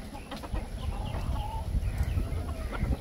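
Loose backyard chickens clucking softly at close range amid steady low outdoor rumble, a few scattered clucks over three seconds.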